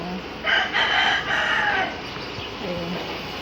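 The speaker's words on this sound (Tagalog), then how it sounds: "may manok doon" A rooster crows once at a moderate distance, a drawn-out call that rises and falls, with light background noise and a few faint chirps afterward.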